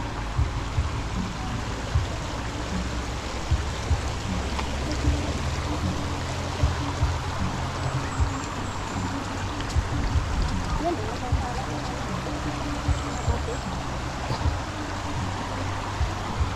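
Water rushes steadily through the channel at Bayabas Dam in Bulacan, Philippines, a continuous broadband stream with low rumble, heard close and outdoors throughout.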